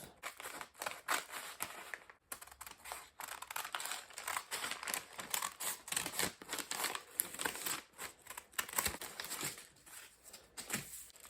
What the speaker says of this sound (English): Then you come to the armhole and you cut the armhole out.